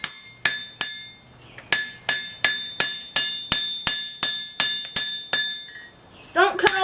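Hammer blows on a hot cut over hot steel on an anvil ring out in a steady, bright, metallic series of a dozen close, loud strikes, each with a short ringing decay, followed by a brief scraping clatter.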